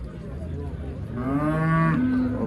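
A cow gives one long, loud moo close by at the Rishton livestock bazaar, rising out of steady crowd and market background noise and holding for about a second.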